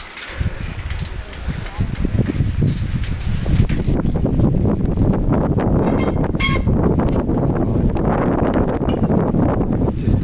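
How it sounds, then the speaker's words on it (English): Wind gusts roar steadily over the microphone outdoors on a road trip in Armenia, loud and continuous throughout with a buffeting rumble and rustling. "It's just the wind."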